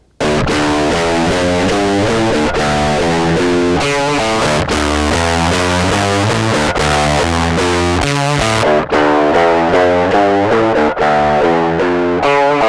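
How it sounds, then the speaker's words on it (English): Electric guitar chords through overdrive, fuzz and distortion pedal modes in Ableton Live 10, thick and fuzzy, played steadily and loudly with sustained ringing tones and brief pauses between phrases. "So there's overdrive, fuzz, and distortion."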